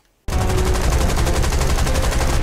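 Rapid automatic gunfire in a video game bursts in abruptly after brief silence, a loud, dense, continuous stream of shots with no talking over it.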